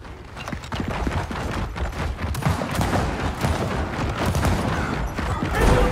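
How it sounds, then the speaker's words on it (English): Dense, fast gunfire from the video game Gears of War 4, a loud unbroken barrage of cracks and booms packed together for several seconds, building slightly toward the end. "Hit on the shot! Shotgun!"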